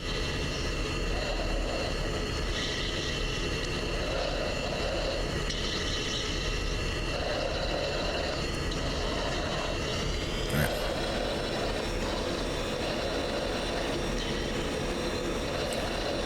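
An F-16 jet in a flight simulator game holding on runway 18 before takeoff, its steady engine roar droning continuously throughout, while radio voices talk over it.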